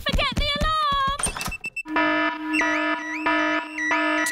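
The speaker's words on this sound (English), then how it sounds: "Daddy Pig has set off the noisy house alarm." A cartoon house alarm rings out with a steady, loud electronic warble of repeating tones, following a brief burst of animated voices and thumps.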